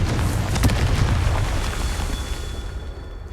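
Confringo fire spell explosion in Hogwarts Legacy, a deep booming blast with sharp burst at onset, rumbling low end and a gradually fading roar over about three seconds.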